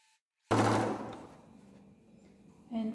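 A sewing machine starts abruptly and runs close by, back stitching along a fabric edge in a short whirring burst that eases off, then picks up again at the end.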